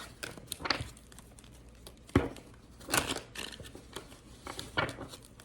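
Tarot cards are shuffled by hand in several quick riffling bursts separated by short pauses, soft papery flutters close to the listener with no voices.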